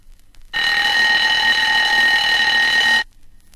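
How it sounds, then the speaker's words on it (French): A mechanical alarm clock rings from about one metre away, a loud, continuous metallic bell ringing that starts suddenly, holds steady for roughly two and a half seconds and stops cleanly. "Écoutez ce réveil matin à 1 mètre."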